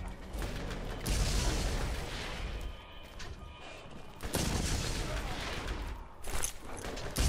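Grenade blasts and gunfire from the Borderlands shooter game, several loud booms rolling over a dense, continuous barrage, with a fresh explosion about a third of the way through and another near the end.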